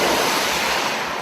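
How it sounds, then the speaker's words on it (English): Ocean waves crash on a beach as a loud, continuous roar of surf and wash, close and steady throughout with no other sounds. "there are lots of crashing waves"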